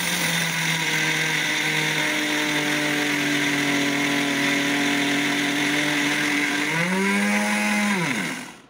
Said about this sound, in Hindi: मिक्सर जार में हम लोग सारी मूँगफलियों को और एक पिंच नमक डाल के ग्राइंड कर लेंगे।